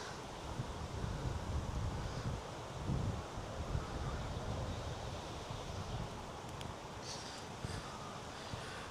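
Wind blows steadily through tree leaves, producing a continuous broadband rustle with low gusty rumble from the wind on the microphone and no talking.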